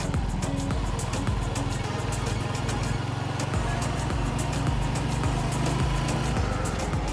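Motorcycle engine droning steadily in fifth gear at about 40 mph on a ride through Leyte, a constant close hum with wind noise and no pauses.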